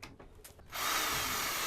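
A power driver sends a screw into an electrical box in a backyard greenhouse wiring job. A couple of brief taps give way to a sustained, close, high-pitched whir.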